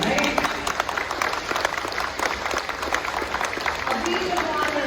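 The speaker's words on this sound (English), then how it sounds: "I feel like we should give an applause to them, right?" Audience at an election forum applauds steadily, dense clapping from a room of people that stays fairly even for several seconds, close and continuous.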